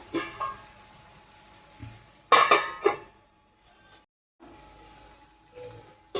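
Chopped tomatoes are stirred and sautéed in a pan, with scraping and clinking of a spatula against the metal in short irregular bursts over a light frying sizzle. It is close, with quiet gaps and no talking.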